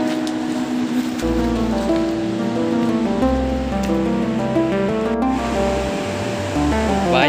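A flooded river rushes in a constant roar of water, with a melody of stepped musical tones playing loudly over it the whole time.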